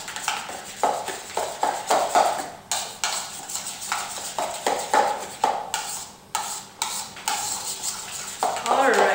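Ingredients being stirred into a bacon dip in a bowl, a busy run of scraping and clinking utensil strokes that repeats steadily at close range, with faint voices in the background.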